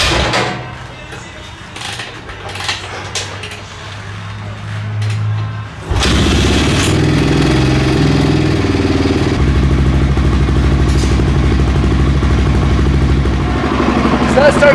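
A Honda XR650R dirt bike engine, sitting unused for two days with no choke, kicks and fires partway through, then settles into a loud, steady, close thumping idle. Quieter rustling and handling noises come before the start.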